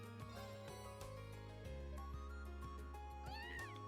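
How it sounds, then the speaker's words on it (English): Cat Celine in the video game Trails of Cold Steel giving a soft meow over steady background game music, brief and close. "Meow."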